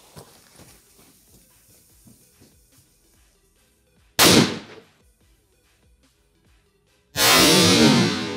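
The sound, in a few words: Super TNT firecracker exploding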